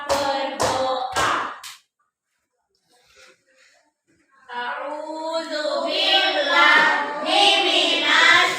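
A first-grade classroom claps out a counted rhythm: three sharp, loud hand claps in quick succession, a short pause, then children's voices chanting together in a steady, sing-song way.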